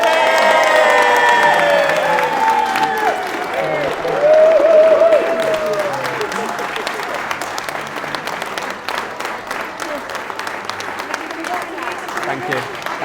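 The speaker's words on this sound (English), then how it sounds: "the biggest cheer, the biggest clap, the biggest round of applause" Wedding ceremony guests burst into cheering and applause for the newlyweds, loud crowd clapping with whoops while voices ring out over it at first, then steady clapping continues alongside chatter.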